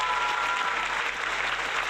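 Steady applause from a live-stream audience during a variety gaming stream, a dense, even patter of clapping that holds at a constant level for the full two seconds with no voices over it.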